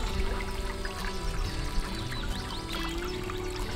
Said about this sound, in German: entlang der Ufer des munter plätschernden Baches